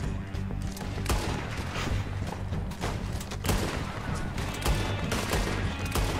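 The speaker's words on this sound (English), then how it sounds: "Instead, I shoot his head off." Rapid gunfire in Red Dead Redemption 2, a dense run of loud overlapping shots with heavy booming impacts that continues without a break.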